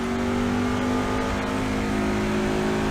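A NASCAR truck in a racing video game accelerates out of pit lane at Daytona International Speedway road course, a steady loud engine drone holding a sustained tone for the whole stretch, alone without talk.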